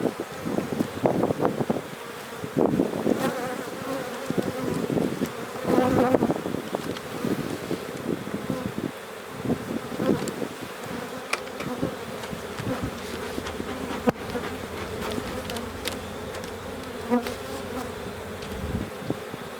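Honey bees buzz loudly and continuously at an open hive during an inspection, with close passes of individual bees and some wind noise over the microphone.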